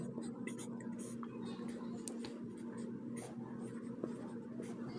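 A pen or marker writes out the next terms of an arithmetic series during a Class 10 maths lesson, a steady faint scratching that runs throughout over a low constant hum.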